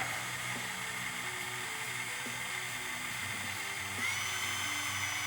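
A cordless drill stirring homebrew beer drones with a steady whine at close range, its pitch holding level with a slight shift near the end, no voices present.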